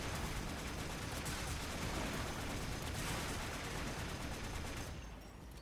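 A rocket pistol in Warframe fires continuously, producing a dense, steady barrage of rapid shots and blasts at moderate loudness that holds unbroken for several seconds before easing off at the end.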